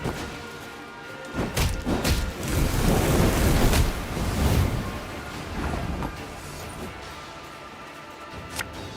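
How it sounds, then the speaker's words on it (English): Thunderstorm in the game Thronebreaker, with rolling rumbles and a heavy crash that swells in the middle amid gusting, surf-like wind noise, then eases off. "A storm is coming."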